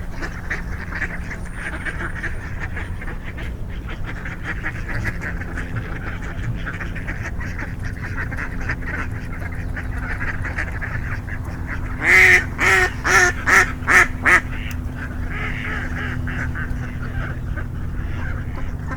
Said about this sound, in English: Sounds like they're feeding the ducks over here.